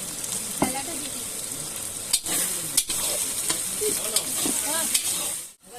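Chopped white onions frying in a pan give a steady, loud sizzle, with scraping stir strokes from a utensil and a few faint voices in the background.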